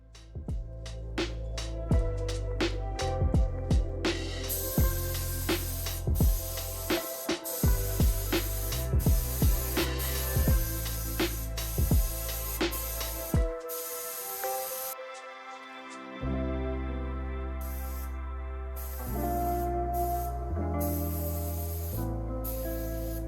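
Spray primer sprayed onto a coffee table in repeated bursts, close hissing blasts, some short and some long, with brief pauses between them.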